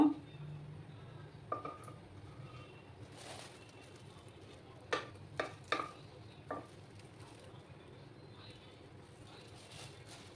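Dried red chillies and bay leaves fry in oil for a Bengali kachu shak, a faint, steady sizzle broken by a few quick stirring scrapes and knocks of the spoon in the pan.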